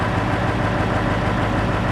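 A hooklift truck engine idles steadily close by, a continuous low rumble with a faint knocking pulse and no voices.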